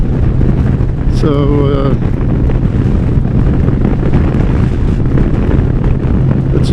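Crosswind buffeting a rider's microphone on a 750-pound motorcycle out on the road makes a constant, heavy roar that fills the whole stretch, with a brief spoken word near the start.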